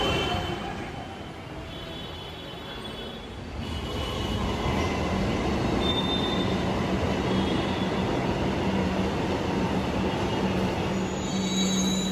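A metro train rumbles and roars past nearby at a station in Kolkata, wheels squealing on the rails as the noise swells and stays loud.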